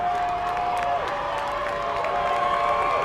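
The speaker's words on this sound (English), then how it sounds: "Now the crowd getting up" College football playoff crowd of Charleston Golden Eagles fans in a stadium late in a close game, a broad sustained roar with whoops, distant and continuous, with a faint voice over it.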